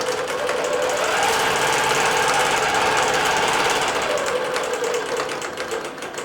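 Computerized quilting machine stitching a swirl pattern with variegated 50-weight thread and an 80 jersey ballpoint needle, a fast continuous mechanical chatter that holds steady, then eases slightly toward the end.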